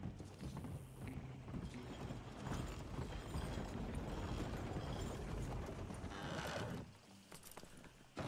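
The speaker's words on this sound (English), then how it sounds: "the horse is like a swift one" Horse hooves clip-clop steadily in Red Dead Redemption 2, a continuous near, moderately loud trotting rhythm with a brief whinny-like texture, the pace dropping and fading near the end.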